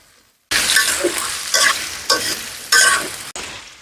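Boiled potatoes go into a pan of frying onions and hiss loudly, stirred in several strong, scraping strokes with brief pauses between them, close up and with no voices.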